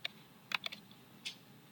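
A card number is typed on a computer keyboard: a few quiet, close keystrokes in a short, irregular burst with pauses between them.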